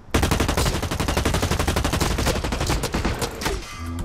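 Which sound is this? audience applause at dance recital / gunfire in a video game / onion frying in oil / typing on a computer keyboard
gunfire in a video game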